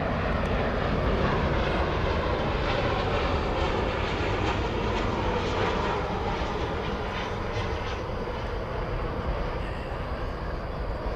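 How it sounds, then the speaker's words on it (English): An American Airlines Airbus A321 bound for Palm Springs passes at DFW Airport as a steady, moderately loud jet roar that holds evenly for about eleven seconds, with no voices. "It's an Airbus A321."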